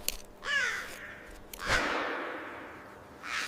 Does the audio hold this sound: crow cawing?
yes